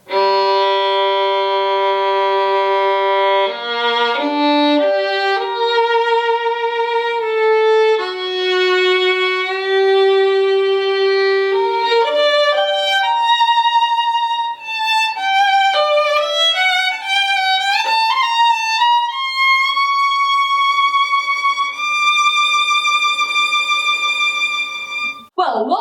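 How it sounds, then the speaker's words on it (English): A solo violin fitted with Pirastro Evah Pirazzi Gold synthetic strings plays a bright, resonant melodic line, close and loud, moving from low sustained notes into quicker high passages, with no voices. "Now this is the sound of the strings I normally play on, which are Pilastro Eva Pirazzi gold strings."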